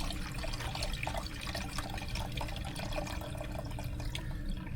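Water pours and splashes steadily into a sink as a pot of pea cooking water is drained, a continuous rushing flow with faint dripping, no talk.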